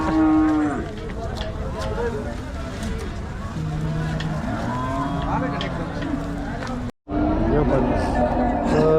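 A six-month-old Holstein Friesian calf moos repeatedly nearby at the Akluj cattle market, several drawn-out bellows rising over a busy market background with people talking.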